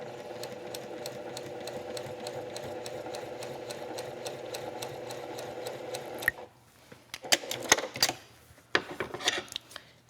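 A sewing machine runs steadily for about six seconds, stitching log cabin quilt strips, then stops, followed by a few close handling clicks and rustles of fabric.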